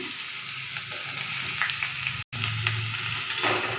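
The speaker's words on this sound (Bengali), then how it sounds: "যে এতটা ভাজা হয়েছে, এখনই দিয়ে দেবো পেঁয়াজ, আলু আর বেগুন।" Onion, potato and brinjal fry in hot oil while being stirred, a close, steady sizzle with scraping stir sounds and a brief dropout partway, no voices.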